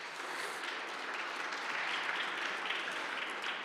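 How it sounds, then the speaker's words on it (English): City council meeting audience in Cleveland applauding Ms. Bobby Rytel, a soft, even patter of many hands clapping from across the chamber, sustained throughout without pause. "if we can give her a round of applause."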